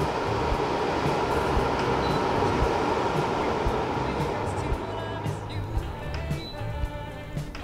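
A Xiaomi Air Purifier 3C fan runs at its highest speed, producing a loud, steady broadband whoosh that holds constant throughout, with some faint higher tones near the end.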